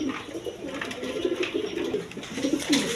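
Giribaz pigeons coo in repeated low, throaty phrases close by, with soft rustling and background noise between calls.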